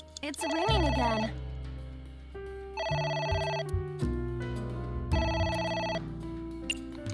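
In the video game AI: The Somnium Files, a telephone trills in three repeated electronic bursts about two seconds apart over low background game music.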